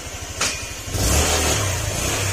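A Honda Click 150 motor scooter engine, newly rebuilt, putters, then revs up and settles into a steady running drone, loud and close, with no voices.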